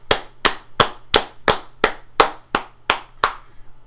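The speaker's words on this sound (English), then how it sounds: "So now we have two people clapping." Two people clapping in unison, recorded as layered tracks: about ten sharp, close claps at an even, steady beat, each snapping out crisply with nothing else around them.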